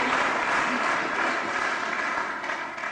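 An audience in a seminar room bursts into warm, sustained applause, dense rapid clapping that fills the room and fades slightly toward the end.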